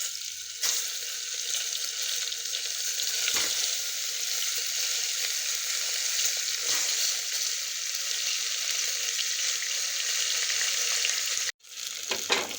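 Stuffed brinjals sizzle steadily in hot oil for a Maharashtrian bharla vanga, a loud, even crackle with a few soft stirring knocks and a brief clatter near the end.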